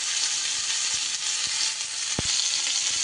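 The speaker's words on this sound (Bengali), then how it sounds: "যেহেতু ফুলকপি বেশ গরম জলে আমার একবার ফোটানো আছে, খুব বেশি সময় লাগবে না এটা ভাজা করতে" Parboiled cauliflower fries in hot oil in a pan, giving a steady, close hiss of sizzling with a few faint clicks of stirring and no voices.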